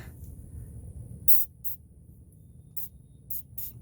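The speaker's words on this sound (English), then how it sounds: "So we're going to use some good old PB Blast." PB Blaster penetrating oil is sprayed onto nine-year-old exhaust bolts on an Infiniti G37S coupe. Several short, close aerosol hisses come in quick bursts, separated by brief pauses, over a low background rumble.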